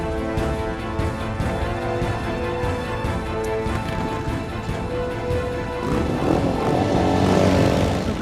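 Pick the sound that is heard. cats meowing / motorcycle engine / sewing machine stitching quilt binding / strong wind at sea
motorcycle engine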